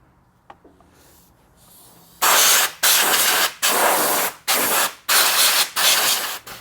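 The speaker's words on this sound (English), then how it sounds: "I'm gonna blow this off with some air." Compressed air blasts dirt off the air filter area of a motorcycle in six loud, close bursts of hissing air, each about half a second long, separated by brief pauses.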